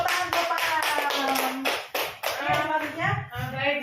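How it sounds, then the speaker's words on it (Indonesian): A group claps together in a room, with dense, rhythmic hand claps that carry on steadily for several seconds. "Kasih tepuk tangan Bapak."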